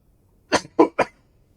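Three quick, sharp coughs in a row, loud and close enough to overload a gaming microphone despite being aimed away from it, with silence before and after.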